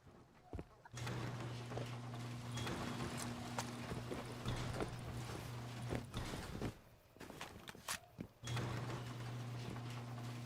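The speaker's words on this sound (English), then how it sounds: "I'm pretty sure that was a horse." Faint clip-clopping horse hooves in the video game Rust under a steady hum, with a few sharper knocks and pauses.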